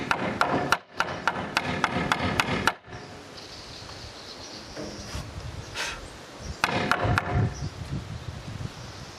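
A small wooden mallet knocks wooden step parts together in rapid bursts of sharp, close, dry taps, with quieter rustling and handling between the volleys.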